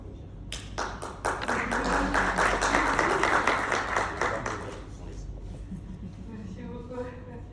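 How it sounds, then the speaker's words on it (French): At a French thesis defense, a small audience breaks into applause. Sharp claps build quickly into a steady patter, hold for several seconds over a low background hum, then fade while voices murmur. "Moi, je voudrais applaudir."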